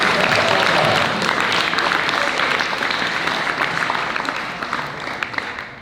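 Audience at an international school design event applauds three honorable-mention teams, producing loud, sustained clapping from a crowd that stays dense throughout and eases off gradually near the end.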